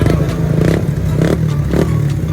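A motorcycle fitted with a Jecspeed power pipe exhaust revs steadily up close, with a throaty low drone and rhythmic surges roughly every half second, plus some clattering mechanical noise.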